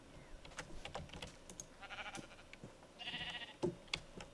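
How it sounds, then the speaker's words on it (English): Sheep bleat in a Minecraft world running the Open Blocks mod: several short, faint bleats scattered among soft clicks and taps, with a brighter burst of game sound near the end. "You can kind of hear the sheep"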